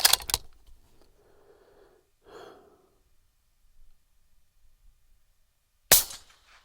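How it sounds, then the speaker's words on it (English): A scoped rifle fires at a distant steel silhouette target on a hillside, ranged at about 515 yards. A single sharp, loud report comes at the start and another shot near the end, with quiet breathing and small handling noises between them. "Do some shooting on some different targets."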